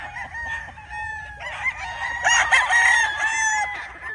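A white Kelso gamefowl rooster crows up close, one long, loud, wavering cock-a-doodle-doo over faint farmyard background noise.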